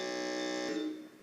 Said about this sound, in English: sound out your buzzer for us